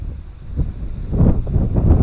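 Strong cold wind buffeting the microphone while riding a Yamaha Grand Filano scooter on a mountain road near Phu Thap Boek, a loud rumbling roar that swells and gusts.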